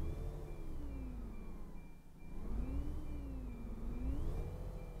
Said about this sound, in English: Sounds vaguely like a Volvo Olympian.